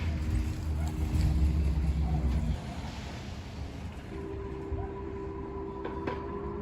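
An electric hybrid car passes outdoors with a deep, low droning hum that holds steady and then eases off, followed by a fainter, thinner steady tone against background noise.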